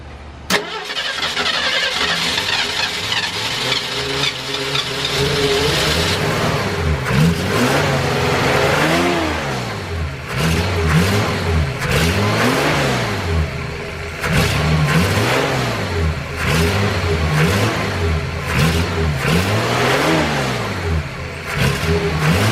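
A 1965 Ford Galaxie fitted with new carburetors cranks and starts, then settles into a loud, rough idle punctuated by repeated throttle blips and revs that rise and fall, close up.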